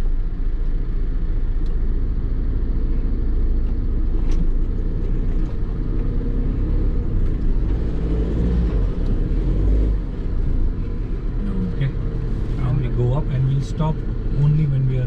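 A Tata Yodha 2.0 pickup truck creeps slowly down a small descent on an off-road track, its engine a steady low rumble inside the cab while people talk over it.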